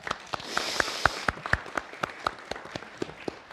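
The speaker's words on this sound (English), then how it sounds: "I think Jack needs a round of applause for that," A small group claps for Jack at a parish annual meeting, sparse and uneven individual claps in quick succession, fairly faint and close, with a murmur of room noise underneath.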